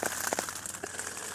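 Rain crackling from a video being played back, a dense patter of small crisp ticks and crinkles at a steady level with no talking.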